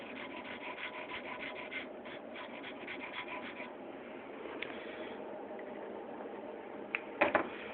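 A hand file rasps in quick repeated strokes, cutting vine-pattern filework into metal, close and steady at first and then a smoother continuous scrape, with a couple of sharp clicks near the end.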